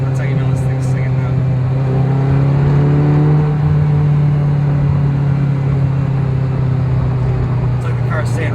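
A Ferrari 348tb engine drones loudly and close, its pitch climbing through a rev in the middle before settling back into a steady hum, with no clear speech.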